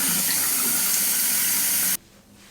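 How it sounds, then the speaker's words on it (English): A tap runs water into a bathroom sink while a face is rinsed: a loud, steady, close rushing stream that stops abruptly near the end, leaving quiet room tone. "Rinse it thoroughly in the sink."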